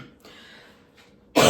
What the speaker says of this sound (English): we have a cough.